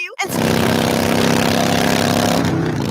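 A motorcycle engine roars loud and close with a steady throbbing rumble, drowning out a radio commercial after a brief voice at the start.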